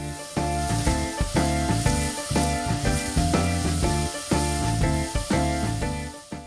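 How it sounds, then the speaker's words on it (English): Pork stir-frying in sesame oil in a pan, a steady sizzle heard beneath rhythmic background music. "Heat sesame oil in a pan. Add pork and stir-fry until pink color is nearly gone."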